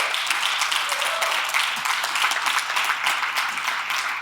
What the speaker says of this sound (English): Let's give it a round of applause for that documentary.